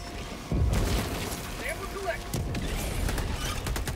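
A grenade blast in the game Helldivers 2 hits hard and loud, with a broad low boom that trails off into a sustained rumbling roar and scattered crackling debris, while chatter runs alongside.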